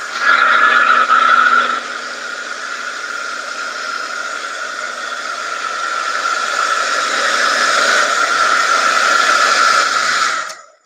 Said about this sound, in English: This is just a blow dryer